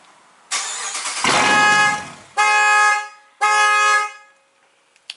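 A Dodge car with a factory alarm tries a remote start: a loud engine crank, then two long, blaring horn blasts from the alarm before everything falls silent, with a faint click at the end.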